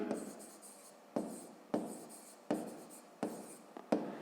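A pen writing by hand on paper while working a fifth-grade math exercise, with close, soft scratching strokes broken by regular sharper taps about every half to one second.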